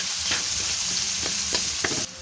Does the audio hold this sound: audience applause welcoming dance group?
no